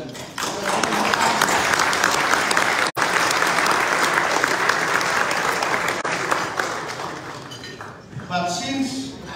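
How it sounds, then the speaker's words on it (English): A dense, sustained ovation from the audience at an investment forum, with many hands clapping loudly and evenly before the applause thins and a speaker's voice returns near the end. "I want a very good clap for them."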